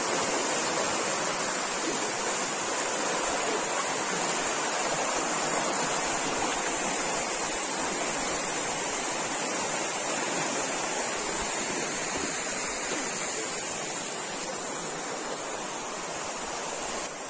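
A waterfall at Pichula in Keonjhar district sends up a dense, steady roar of falling water that stays constant and fairly strong throughout, with no talking.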